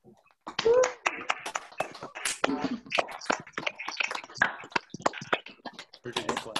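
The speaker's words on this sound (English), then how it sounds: "Pretty good clap." Scattered clapping from several people on an unmuted video call during a graduates' awards chapel, uneven and overlapping with bursts of voices and chatter throughout.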